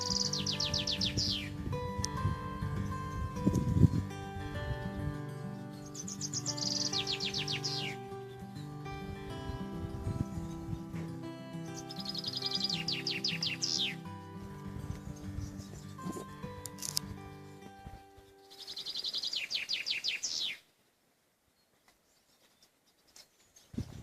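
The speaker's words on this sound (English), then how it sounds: "Just nature at its best with the happy chirpy birds and crisp, clear air" Birds chirp and trill in repeated bursts on a mountaintop in the Troodos range of Cyprus, with clear high calls recurring every few seconds over a steady bed of layered tonal background sound, which cuts off to near silence near the end.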